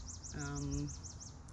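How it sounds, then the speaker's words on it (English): A pair of crows living on rural property call from a distance, a short burst of repeated faint caws against quiet outdoor background. "a pair of crows who live on our property"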